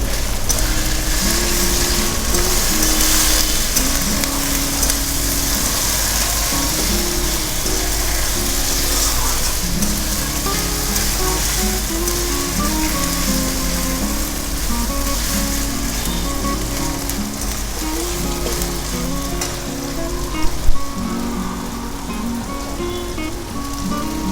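Chopped tomatoes sizzle and fry loudly in a pan with sea crab, a dense steady crackle throughout, with background music and a brief clatter near the end.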